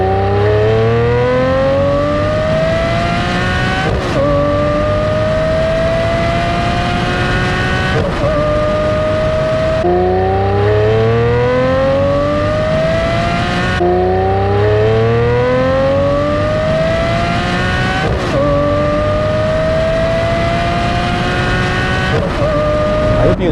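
A Lamborghini Murcielago on a test drive roars through repeated hard accelerations, its engine note climbing steeply through each gear before sharp shifts, loud and close with no talk.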